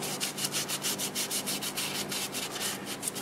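Finish being rubbed by hand onto a turned mimosa wood vase, a soft, steady back-and-forth scrubbing in quick regular strokes, close and fairly quiet with no talking.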